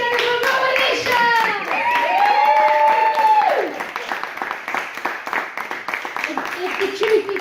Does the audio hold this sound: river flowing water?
no